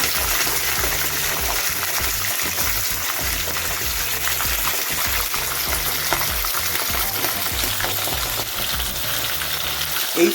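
Chicken pieces frying in hot oil in a karahi, a loud continuous sizzle and crackle close up with bubbling and stirring scrapes throughout, no voices.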